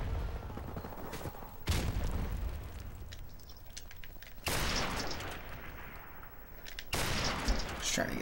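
Distant gunfire bursts and booming blasts in an online video game shooter match, several loud sustained volleys at intervals over a constant rumbling battle bed, with someone talking quietly underneath.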